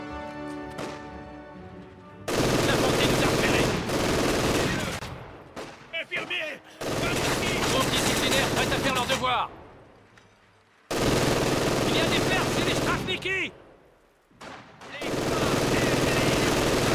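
Heavy machine gun fire in the Company of Heroes 2 war game, loud sustained bursts of rapid automatic shots in several long volleys separated by short quieter gaps with faint voices.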